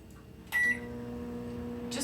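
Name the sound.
microwave oven heating bloomed gelatin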